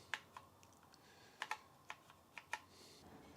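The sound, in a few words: typing on an old Apple II Europlus keyboard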